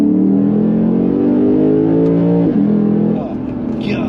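A Lexus RC F in Sport Plus pulls hard, its engine note climbing steadily with sharp dips at crisp upshifts, loud and close from inside the cabin.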